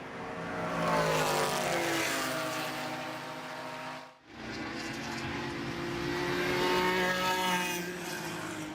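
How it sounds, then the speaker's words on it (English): Mazda Miata race car lapping Road Atlanta, an engine note droning loudly at high revs as it passes, fading briefly with a sharp dip, then building again to a sustained wail. "That open throttle Miata continuing to turn laps"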